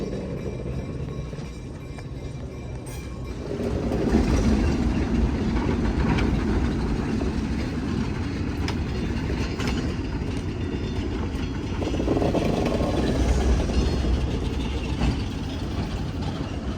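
An ALCO RS-1 diesel locomotive runs on a museum yard ride, its engine rumbling loudly and steadily for the whole stretch and swelling as it works harder, with wheels clattering on the rails.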